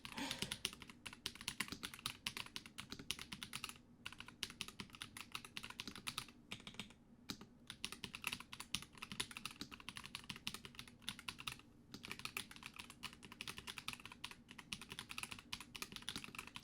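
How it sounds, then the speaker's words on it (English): Soft, quick keystrokes on a computer keyboard patter in an irregular, continuous stream with brief pauses, close and quiet in a calm office setting. "Just the sound of my trusty keyboard."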